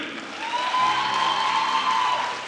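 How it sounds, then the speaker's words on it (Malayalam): Teachers at St. Teresa's College applaud their students at a Teachers' Day event, a steady wash of hand claps from a crowd that swells after the first second and holds evenly to the end, with no speech over it. "ഓൾ ദ ടീച്ചേഴ്സ് ഹിയർ പിള്ളേരെ ഒരു നല്ല കൈയടി കൊടുക്കുന്നു"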